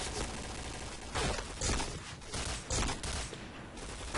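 Gunfire in a shooting video game, with several bursts of shots rattling over a dense, noisy game mix, loud and close throughout.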